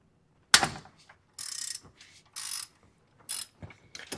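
A ratchet wrench loosens the bottom nut on the AC compressor bracket of a Lexus RX330: a sharp clack, then several short bursts of rapid ratcheting clicks separated by brief pauses, close and clear.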